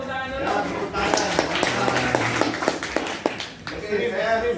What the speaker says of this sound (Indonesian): Tepuk tangan dulu, tepuk tangan dulu. Ya, tepuk tangan.